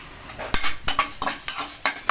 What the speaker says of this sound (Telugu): కొంచెం ధనియాలు కూడా ఫ్రై చేసుకుందాం అండి ఇవాళ వేగిపోయినాయండి